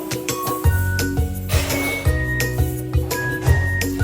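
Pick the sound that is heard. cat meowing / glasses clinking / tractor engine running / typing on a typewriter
glasses clinking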